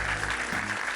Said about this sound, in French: C'est pourquoi je vous prie d'applaudir très fort pour Grâce qui va venir ici, dans ce studio.